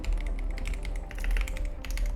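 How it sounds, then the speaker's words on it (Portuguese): Keys clatter on a worn-out, poor-quality computer keyboard in a steady run of clicky taps at close range, with no one talking over it. "Como eu falei, meu teclado está bem ruim"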